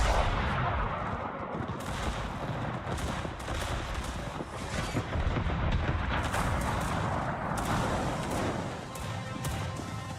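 Warship secondary guns firing in World of Warships, a dense, continuous roar of rapid booming shots layered over rumbling game noise, loud and unbroken throughout.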